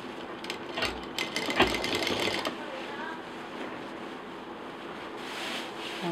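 A sewing machine runs a continuous stitching whir while a handbag is joined at the centre with double stitching. The hum is steady and moderately loud and carries on without a break.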